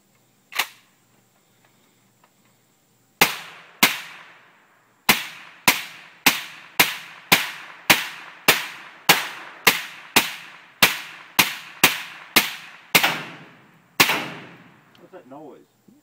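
A suppressed AK47 with a Mystic suppressor, hot from sustained firing, lets off one lone shot, then after a pause a rapid run of about fifteen loud, close cracks at a steady cadence, ending in faint handling noise.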